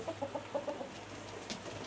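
Chickens cluck in a short run of soft calls, closely spaced early on, then fade into a steady farmyard background hum.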